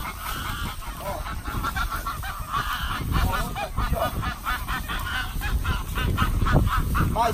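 Geese honk loudly and repeatedly at close range near their nests, a dense overlapping chorus of nasal calls that grows more insistent toward the end, with no talking.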